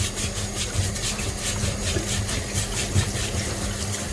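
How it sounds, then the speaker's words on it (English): Fresh yuca root is scrubbed with baking soda in a fast, rough, even rhythm of abrasive strokes, loud and close, with no voices. "I just put some baking soda on it and I'm gonna give it a good scrub"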